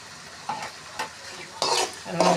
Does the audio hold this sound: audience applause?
no